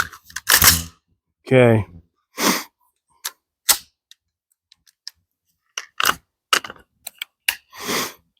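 Rifle being loaded at an outdoor shooting range, a few sharp metallic clicks and snaps of magazine and action handling spaced between brief bursts of nearby talk.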